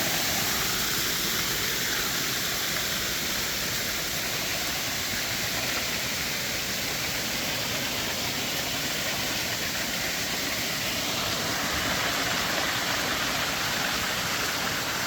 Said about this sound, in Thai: ตรงนี้เป็นน้ำตกนะครับ